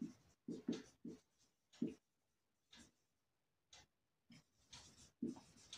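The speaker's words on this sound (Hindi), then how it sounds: "मैं यहां लिख देता हूं" Chalk or marker writing on a board during a lesson on notice writing, heard as faint, irregular scratchy strokes in short bursts with quiet gaps between them.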